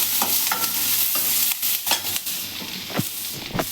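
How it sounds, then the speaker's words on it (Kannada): Onion, garlic and ginger frying in oil in a pan, a steady close sizzle broken by repeated scraping stirs. "ಈರುಳ್ಳಿ, ಬೆಳ್ಳುಳ್ಳಿ, ಶುಂಠಿ ಇಷ್ಟನ್ನು ಹಾಕ್ಕೊಂಡು ಎಣ್ಣೆಲಿ ಫ್ರೈ ಮಾಡ್ಕೋತಾ ಇದ್ದೀನಿ."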